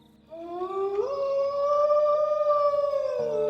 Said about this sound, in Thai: เสียงมาหอนก็ดังแว่วมาเข้าหู